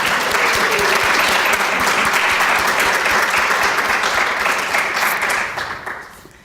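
Audience applause for Naomi Gregory at an Italian Baroque organ event, loud and dense from many hands, holding steady before fading out toward the end.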